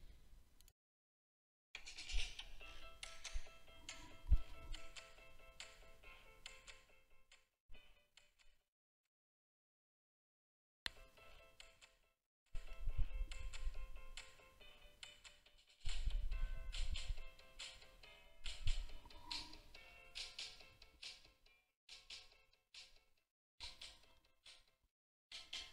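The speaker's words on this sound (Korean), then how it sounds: "다음은 스마트폰으로 음악을 재생해 보겠습니다." Music played from a smartphone and captured by an ASUS ROG Strix Go Core headset microphone, tonal sustained notes with percussive ticks in several sections separated by gaps of near silence, moderately quiet and thin-sounding.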